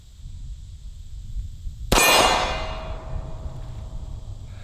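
A single FP45 Liberator .45 ACP pistol shot strikes a steel target, making one sharp, loud crack and a bright metallic clang that rings and fades over about a second, with no talking.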